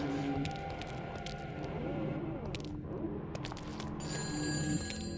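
A telephone rings inside the horror video game Shadows of the Damned, a steady repeating ring that holds throughout over low droning game ambience.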